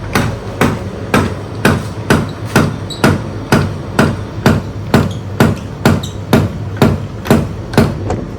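The cup of a Casagrande apparatus drops repeatedly onto its base as the handle turns during a liquid limit test of bentonite soil, sharp regular knocks about two per second, loud and close.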